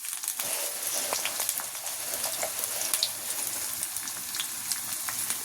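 Whole cumin seeds and crushed garlic fry in hot oil, giving a steady close sizzle with small crackles and pops throughout, no talking.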